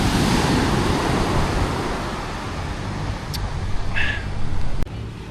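Sea surf rolling onto a beach on the Indonesian coast, a steady broad wash of breaking waves close by with wind rushing across the microphone, loud and unbroken with no talking.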